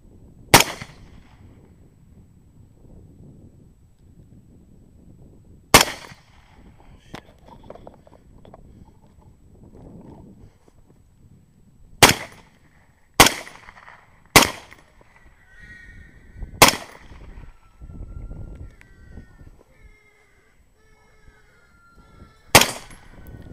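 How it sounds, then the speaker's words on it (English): An LWRC Six8 Razorback II rifle firing 120 grain Hornady SST rounds in a pecan orchard: seven loud, sharp shots at irregular intervals across open outdoor quiet, with no talking. "I'm shooting the 120 grain Hornady SSTs"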